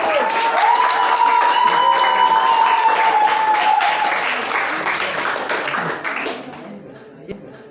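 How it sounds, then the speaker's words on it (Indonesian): A crowd at a school religious quiz competition applauds a team, dense clapping that is loud at first and then gradually thins out. A tonal, whistle-like sound rides over the start, and the applause dies to near silence at the end. "Beri tepuk tangan untuk Pinang Kering."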